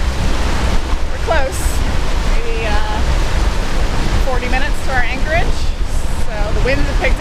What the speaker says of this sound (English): So the wind picked up again.